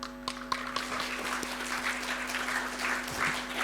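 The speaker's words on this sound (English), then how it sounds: "Please join me in a big round of applause again to welcome Ambassador Vinh on stage for his address." Conference audience applauding to welcome an ambassador on stage at a policy forum, a steady, moderately loud patter of many hands in a hall with a constant electrical hum underneath.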